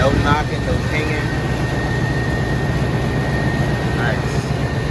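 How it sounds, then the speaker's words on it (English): A truck engine that had been flipped over runs at a steady idle after starting, a continuous loud low rumble with no knocking, with a faint whine and brief chirps overhead. "So we got the truck started. Shit sounds calm. No knocking, no pinging."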